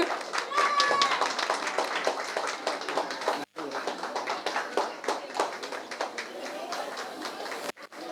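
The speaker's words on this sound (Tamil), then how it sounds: "ஒரு பெரிய கைத்தட்டல் கொடுங்க." An audience applauds at an award ceremony for a summer celebration closing event, with dense, continuous clapping and a couple of brief pauses, while voices sound in the background.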